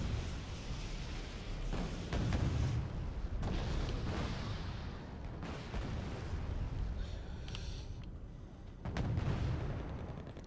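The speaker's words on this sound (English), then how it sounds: "You got a bit of smoke barrage from red, 4." A smoke barrage of artillery fire in the Wargame: Red Dragon video game, repeated distant booms and thumps scattered over a low rumbling battlefield background, with a few sharper bursts standing out.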